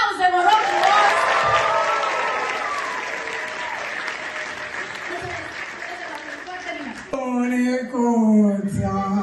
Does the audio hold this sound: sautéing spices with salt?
no